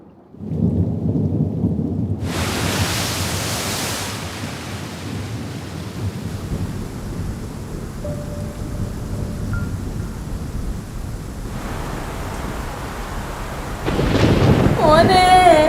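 Heavy monsoon rain pours steadily with rumbling thunder at the onset of the rainy season near the sea, a continuous loud wash that swells toward the end, with brief voices.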